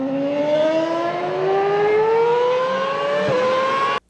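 A 2008 Formula One car's exhaust gives a loud, shrill scream that climbs steadily in pitch as the engine revs. There is a brief flutter near the end before it stops suddenly, and no one speaks.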